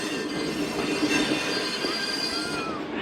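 The Musapak shuttle train running between Multan and Dera Ghazi Khan pulls into a station, its wheels squealing on the rails in a steady metallic screech with a rumbling carriage noise underneath.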